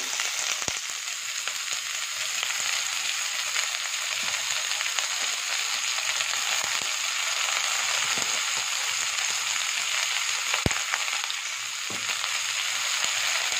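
Chopped cabbage, a quarter kilo, fries in hot oil in a pan for Andhra-style cabbage vepudu, a loud continuous crackling sizzle with occasional clicks and scrapes of stirring.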